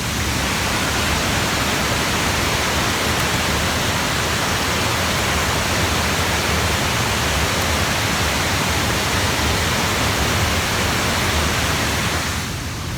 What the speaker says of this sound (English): That noise you can hear is the plug holes.